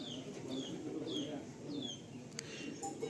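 A male pigeon of the Dobaj bloodline coos softly nearby, a few low repeated calls over background murmur, with faint chirps and brief clicks toward the end.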